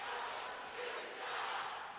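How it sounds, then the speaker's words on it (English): A hockey arena crowd at a Fayetteville Marksmen home game roars steadily after a late first-period goal, a broad continuous wash of cheering that holds loud for the whole stretch with no talk over it. "Marksman crowd very much into this one after the late period goal"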